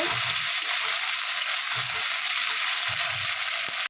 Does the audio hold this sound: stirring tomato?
yes